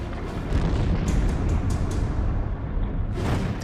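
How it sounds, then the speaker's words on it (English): Depth-charge explosions near the submarine Nautilus in a wartime naval battle: a continuous low rumbling boom with heavy bass, swelling and fading, loud and close, with no voices. "The explosions miss Nautilus, but the sub takes no chances and dives temporarily."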